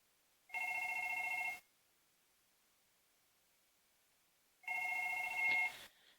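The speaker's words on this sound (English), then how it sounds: "So it should be about 2 to 3 rings, and then it will stop offering and wait in the call queue" A phone on a FusionPBX call queue rings in two short electronic bursts about four seconds apart, with near silence between them and a faint rustle at the end of the second ring.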